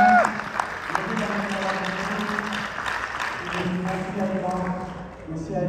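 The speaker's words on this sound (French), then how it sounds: "Je pense qu'on peut les applaudir vraiment très fort." An indoor audience claps steadily for several seconds at a French-language real estate event, with a voice and a few tonal sounds running over the applause.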